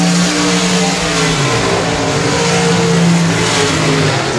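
Race cars roar around the track at Sabine Speedway in Louisiana during a night race, a loud, continuous engine drone with overlapping revving that stays dense and close for the whole stretch.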